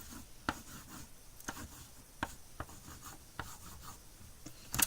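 A lighter blue oil pastel is worked over paper for a flower drawing, making soft, steady scratchy rubbing with periodic sharper strokes, close and quiet with no talking.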